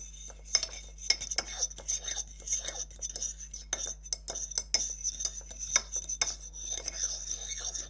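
Water stirred into glue in a container while making slime: rapid, irregular clinks and scrapes of a utensil against the vessel, close and crisp, continuing for several seconds over a quiet background.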